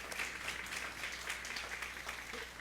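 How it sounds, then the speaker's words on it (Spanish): Brief, faint audience applause in a church service, a soft patter of clapping lasting a couple of seconds at low level. "Le damos un aplauso"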